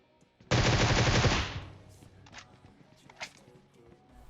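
A loud burst of rapid automatic gunfire in the video game PUBG Mobile, followed by scattered fainter shots and footstep-like thuds.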